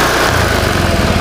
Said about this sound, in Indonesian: Karena aku harus megang sambil ngegas, tarik gas ya.